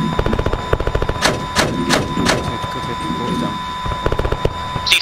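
Video game gunfire in a combined arms operation, a series of sharp bursts and thumping impacts, some close and loud, mixed with radio-style voice chatter.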